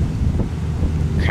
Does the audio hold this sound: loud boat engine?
yes